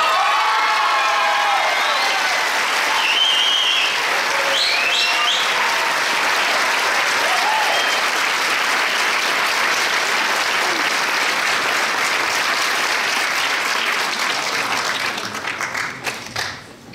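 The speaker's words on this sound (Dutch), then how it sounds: "Mag ik een hartelijk applaus voor de twee meisjes die de titel Miss Friendship 2017 krijgen." Sustained audience applause with cheering and whoops at the Miss Fashion 2017 final award ceremony, as the Miss Friendship 2017 title is presented; loud dense clapping continues throughout and tapers off at the end.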